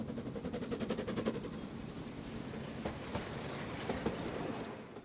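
A Selfkantbahn museum railway train pulls into Gillrath station, its wheels giving a steady rhythmic clickety-clack over rail joints that eases off as it slows, close and fairly loud with no talk.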